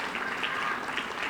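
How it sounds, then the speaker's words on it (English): Audience at a police department annual awards ceremony applauding, a short, even wash of clapping at moderate level, no talking heard. "Please give them all a round of applause for the work they do."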